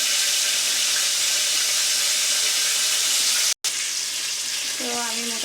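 Meat sizzling and frying in a hot pan, a loud, continuous crackling hiss close by, briefly cut off for a moment before resuming, with a faint whistling tone near the end.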